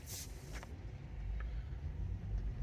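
A Tesla on Autopilot/FSD software 2023.38.9 pulls away from a stop, its low road rumble and faint hum quietly rising in a near, steady cabin wash with no voices.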